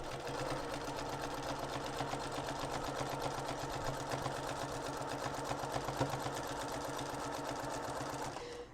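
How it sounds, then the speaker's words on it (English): A sewing machine stitches quilt binding in one continuous run, a rapid, even mechanical whir and clatter heard up close at a steady pace before stopping abruptly near the end. "Start about 1 inch above where you stopped stitching and stitch it over top."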